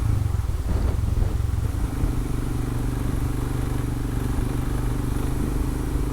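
A Honda Unicorn motorcycle speeds along a road near Necklace Point by the Bhatghar dam backwaters near Bhor, Pune, its engine droning loud and close, then easing slightly as it carries on.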